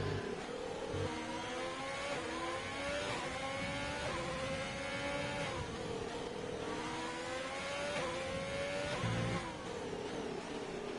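Race cars in an F1 video game at the Abu Dhabi Grand Prix roar continuously, with several engines revving up and shifting through gears in overlapping rising sweeps, loud and close.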